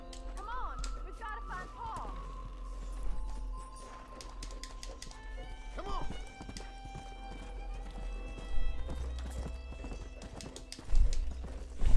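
Horse hooves clip-clop at a walking pace in Red Dead Redemption, with a brief whinny and snorts near the start and birdsong chirping faintly in the background.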